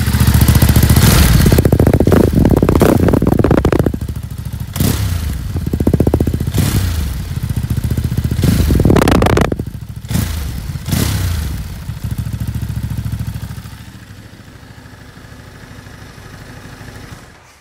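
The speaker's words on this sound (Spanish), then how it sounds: "Vamos a darle un acelerón para que la escuchen." A Ducati Monster motorcycle with dual exhaust is revved hard several times close up. Throttle blips rise and fall in a repeating pattern over a rumbling idle before the engine settles back to a lower idle.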